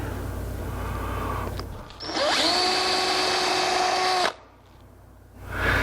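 A power drill bores peg holes through a soft pine mortise-and-tenon joint, a steady high whine that runs for about two seconds after a short lead-in and then cuts off, loud and close.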